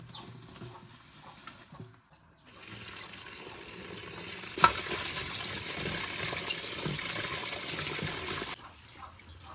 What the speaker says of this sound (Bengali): কচু শাকটা চার পাঁচবার ভালো করে ধুয়ে নিলাম